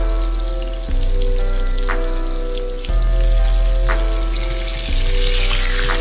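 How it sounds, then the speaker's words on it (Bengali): Small pieces of rui fish fry in hot mustard oil with a loud, continuous close crackle and spatter over a low steady hum. "সর্ষের তেলটা যখন খুব ভালো করে গরম হয়ে যাবে তখন আমি এই ছোট ছোট মাছের পিসগুলোকে আমি ভেজে নিচ্ছি।"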